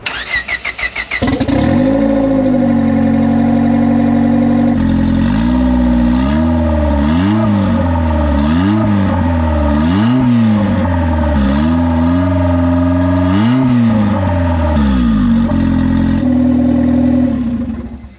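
A turbocharged Honda Civic with a 3-inch downpipe dump cranks and fires up, then settles into a loud, raspy idle broken by several sharp throttle blips that rise and fall, close and alone.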